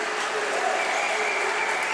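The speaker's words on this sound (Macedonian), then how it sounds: "заслужни аплаузи заработува и Мартин Дамјановски" A crowd at an under-18 Macedonian basketball championship semifinal between Vardar and Shkupi applauds in a dense, sustained, even clapping that fills the whole moment.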